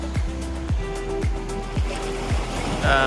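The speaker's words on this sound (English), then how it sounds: "oh, look at this wave coming in" Waves coming in on the Black Sea coast in Bulgaria, a steady, close rush of surf and wash heard alone under a loud, gusty rumble with recurring low thumps.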